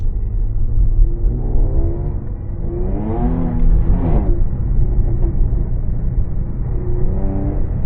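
A Jaguar F-Type in sport mode cruising through a neighborhood, its engine a loud steady rumble from inside the cabin, rising briefly in pitch as it accelerates before settling back to an even drone.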